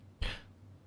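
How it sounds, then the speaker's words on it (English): A single short throat clearing, close and fairly quiet, one brief rasping burst that fades quickly into silence. "I clear my throat."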